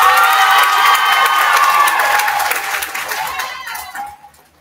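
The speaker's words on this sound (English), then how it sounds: "Let's give Trinity a round of applause." A crowd at a Hillcrest Christian Cougars school basketball event cheers and applauds for Trinity, with loud sustained clapping and shouts that fade out over a few seconds.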